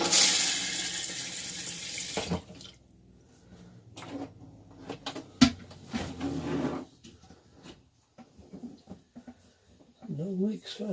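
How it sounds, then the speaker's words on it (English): Tap water is turned on to refill a repaired Thetford RV toilet, with a brief broadband rush of flow at the start followed by quieter trickling, clicks and handling sounds, and someone talking near the end. "So now, turn the water on and we'll test it."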